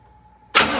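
A 1966 Cadillac Eldorado, freshly fuelled with a rebuilt carburetor, cranks over abruptly after a faint steady hum, the starter and engine churning loud and close.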